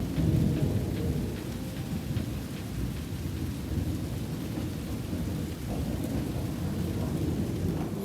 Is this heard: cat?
no